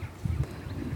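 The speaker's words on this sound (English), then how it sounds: "Canada geese I can hear then." Canada geese honking repeatedly in a loose, overlapping series on the Isle of Wight, fairly close, with low rumbling background noise and no talking.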